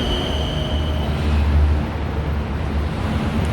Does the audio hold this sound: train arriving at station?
yes